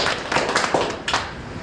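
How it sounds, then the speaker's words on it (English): A tour group at the Titan II Missile Museum gives a brief round of applause, a dense wash of many hands clapping at once, fairly loud and close, lasting under two seconds. "Give a round of applause"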